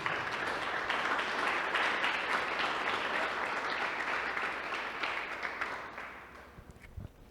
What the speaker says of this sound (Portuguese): Quando você se assentar, dê um aplauso ao Senhor no seu lugar.